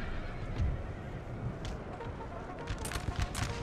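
Cavalry horses neighing during a Napoleonic battle in Napoleon: Total War, a few shrill whinnies rising over a busy low rumble of hooves and battle noise, moderately distant.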